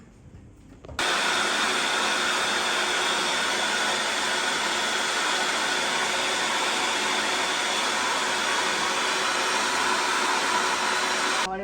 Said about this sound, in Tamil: இதையும் நாங்கள் பிளேன் பண்ணுவோம்